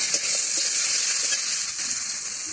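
Chili paste and turmeric powder frying with a splash of water in a pan, a loud steady hissing sizzle with faint stirring taps, close and continuous.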